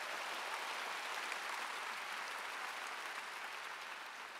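A large congregation applauds at a 2005 Korean church revival rally in a gymnastics arena. The sustained, even roar of countless hands comes through distant and faint, holding steady throughout without any talking on top.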